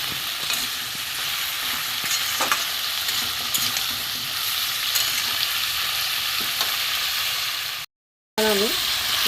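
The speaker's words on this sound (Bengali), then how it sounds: "এটা সবজি একটু ভেজে নেওয়া ভালো করে।" Vegetables for a prawn and pumpkin curry, seasoned with salt, chilli, turmeric, cumin and coriander powder, fry with a steady, close sizzle and occasional stirring clinks, broken by a short silent gap near the end.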